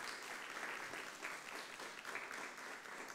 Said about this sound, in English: let's give one final round of applause for everyone involved